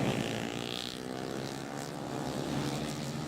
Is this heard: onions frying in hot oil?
no